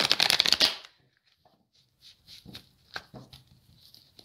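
Tarot cards riffle-shuffled close by in a dense burst for just under a second, followed by scattered soft card taps and slides as the cards are laid out.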